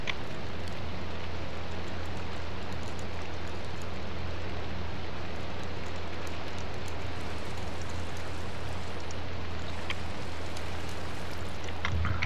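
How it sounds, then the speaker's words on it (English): Steady rain in the video game Minecraft hisses evenly throughout, a dense, constant wash of falling drops with no pauses and a low hum underneath. "We may have to travel through the rain."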